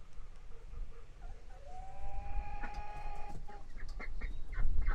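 Chickens cluck and call inside a coop on a small farm, a rising drawn-out squawk standing out among scattered nearby clucks over a low rumbling background.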